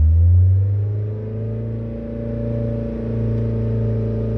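A car engine with a fault running in limp mode revs up as the accelerator is pressed, a loud, close, steady droning rumble that swells at first, eases, then holds a sustained hum; no speech.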